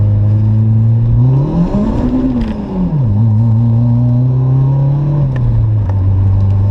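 A Honda Accord with a K24 engine revs in second gear, its tone rising, dipping and climbing again under load, loud and close with a steady whirring drone.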